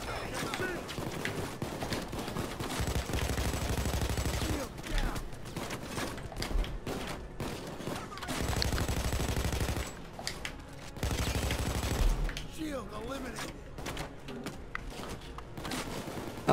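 Sustained gunfire in the video game Payday 2, repeated bursts of rapid shots broken by short pauses, loud and steady with people talking over it at times.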